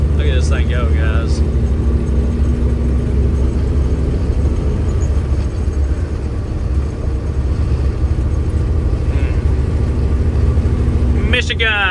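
Steady low engine rumble and road noise from a cabover truck cruising at highway speed, continuous and loud throughout.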